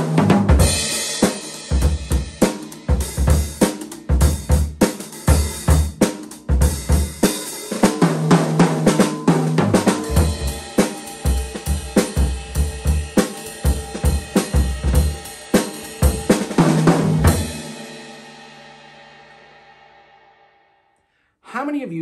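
Hi-hat, ride and crash cymbals played together in a busy, loud drum pattern with dense metallic crashes and low thumps for about seventeen seconds, then a long shimmering decay fading out to silence.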